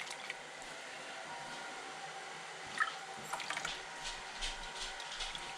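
Turkey broth is poured into a crock pot, a quiet liquid trickle with soft drips and splashes that grow a little busier toward the end.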